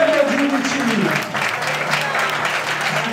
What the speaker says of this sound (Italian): Un applauso a Giuseppe Lauri che l'accompagnava all'angolo blu.